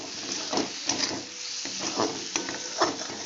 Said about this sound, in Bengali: এর মধ্যে ধনে গুঁড়ো দিলাম জিরে গুঁড়ো দিলাম আবারও ভালো করে কষাবো